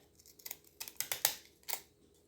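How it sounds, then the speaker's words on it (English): Scissors snipping paper envelope edges while making a bookmark, a series of short crisp cuts in quick succession, close and fairly quiet with no talking. "try to cut off the excess there a little bit"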